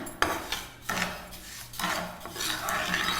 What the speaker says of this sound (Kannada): ಜಸ್ಟ್ ಇದು ಹಾಲು ಮತ್ತು ಸಕ್ಕರೆ ಎರಡು ಒಂದಾಗಿ ಮಿಕ್ಸ್ ಮಾಡ್ತಾ ಇದ್ದೀನಿ.